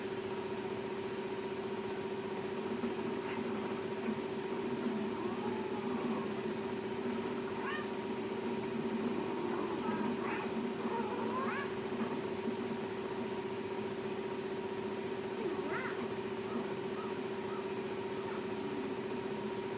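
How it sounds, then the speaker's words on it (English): A PC cooling fan runs loudly during a session of Monster Hunter Online, giving a steady, close droning hum with a fixed tonal whine that holds unchanged throughout, while faint scattered game sounds come and go over it. "I don't know what that sound is my PC's making."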